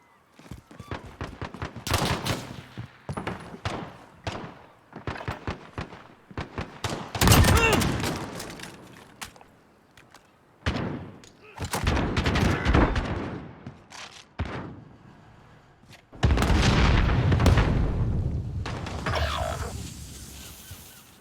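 Gunfire in a Call of Duty 3v3 Gunfight match: loud, close bursts and volleys of automatic fire separated by short pauses, with some heavier shots mixed in.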